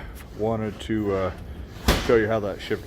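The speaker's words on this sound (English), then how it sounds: "Sorry about the banging, the wind's blowing out there and it wreaks havoc with my vent there on the wall" A wind-blown wall vent bangs once, sharply, in the middle of a man's speech inside a garage workshop.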